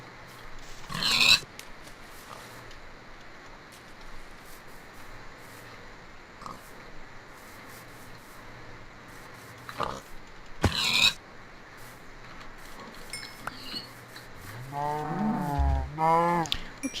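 Pigs oink in a Minecraft-style survival game, with a few short grunting bursts standing out over a steady game background, the loudest cluster near the end.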